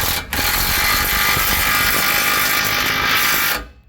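A ratchet tightens bolts on a truck during a budget lift kit install, a loud, steady whirring clatter lasting about three seconds before it cuts off.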